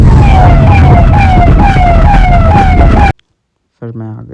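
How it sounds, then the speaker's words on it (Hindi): A car hooter sounded by Yash blares loud and close in a repeating wailing siren sweep for about three seconds, then cuts off abruptly, followed by a brief moment of silence and a short burst of voice. "और फिर यश ने बजा दिया गाड़ी में हूटर।"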